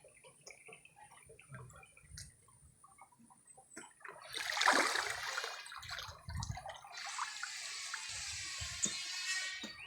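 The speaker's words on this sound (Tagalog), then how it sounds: "ito yung dam dito sa barangay na ito" Water flows and splashes at a small village dam in Barangaan, Barbaza, Antique. Faint drips and trickles open the recording, then a louder rushing surge begins midway and carries on unevenly to the end.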